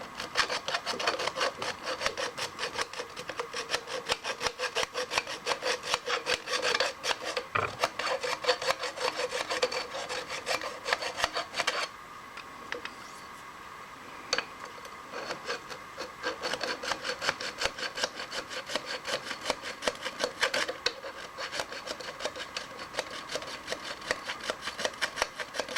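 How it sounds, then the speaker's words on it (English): A metal file rasps steadily across a key slot, knocking a burr off the edge of a Caterpillar pump extension, with close, continuous scraping strokes and a brief quieter pause midway, no talking. "Looks like we got a bit of a burr there, so we need to find a file and"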